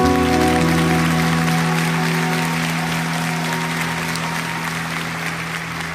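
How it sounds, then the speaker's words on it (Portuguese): Church congregation applauds during a sermon, loud steady clapping held for several seconds over sustained instrumental tones, slowly easing off. "Um aplauso ao povo do celeiro."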